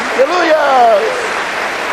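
A church congregation claps and applauds in a steady wash of sound while a voice speaks or calls out over it for a brief moment.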